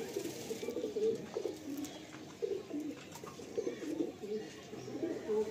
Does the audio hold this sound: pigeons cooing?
yes